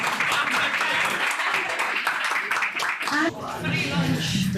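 An audience applauds an artist at a Hope4Life birthday event, loud, dense clapping filling the whole stretch, with a brief dip and voices and light laughter mixed in.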